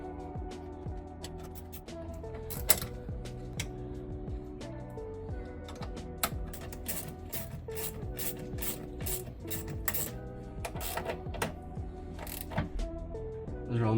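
Bolts on a TSF2021 are tightened with a 14 mm ratchet wrench, giving a close series of rapid ratcheting clicks and metallic ticks in repeated bursts, with no talking.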